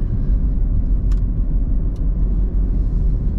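Cars driving by on a residential road, a steady low rumble of passing traffic close by, loud and continuous, with two brief faint clicks.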